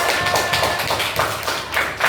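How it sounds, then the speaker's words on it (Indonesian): A sixth-grade classroom clapping for a student group, a fairly loud, dense patter of many hands tapping and clapping together throughout, with no talk over it. "tepuk tangan buat kelompok 3"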